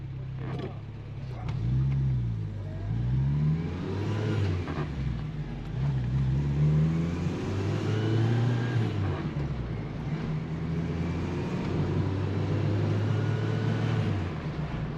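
A restored 1981 Peugeot 104 ZS with its 72 hp engine revs while driving, rising and falling in pitch through several gear changes, heard from inside the car at moderate volume with someone talking over it.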